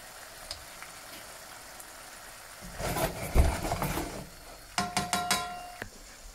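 Mackerel fillets fry in a pan without being turned, giving a quiet low sizzle that breaks into louder crackling pops, with a few light metallic clinks near the end.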